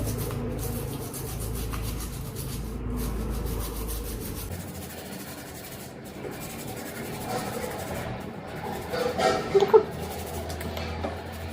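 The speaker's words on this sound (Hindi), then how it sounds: "ब्रश की मदद से अच्छे से घसना है" A gold ring is scrubbed with a brush, giving irregular raspy rubbing strokes over a low background hum, fairly close and moderately loud throughout.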